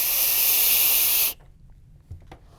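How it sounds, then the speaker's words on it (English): A Vaporesso SWAG 80W e-cigarette fired at 65 watts with the airflow three-quarters open gives a strong, steady hiss that cuts off abruptly, followed by quiet room noise and a soft exhale. "let's go ahead and vape it at 65 with the airflow 3/4 of the way open"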